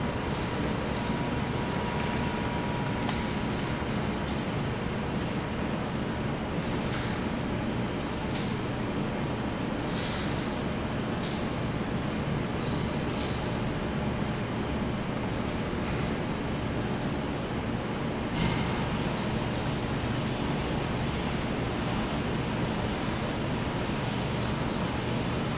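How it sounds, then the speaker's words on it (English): A tumbler slowly spinning puffs as slurry is drizzled over them, a steady, even whooshing rumble that runs throughout with faint light ticks scattered on top. "we'll start the tumbler here to about 30, to a slow spin first"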